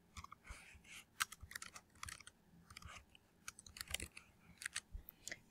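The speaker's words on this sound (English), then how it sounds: "I'm ready to type my story" Keys clacking on a computer keyboard in irregular quiet bursts, faint and close, with no talking.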